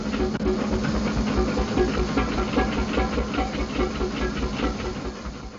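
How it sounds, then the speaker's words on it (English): A 1904 steam traction engine gives a steady, loud hiss of steam with a rhythmic chuffing pulse underneath, continuous throughout, close by. "On a farm in Kent, 40-year-old surveyor Bob Whitehead fires up his 1904 model"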